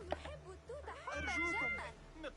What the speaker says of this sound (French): Un petit chat.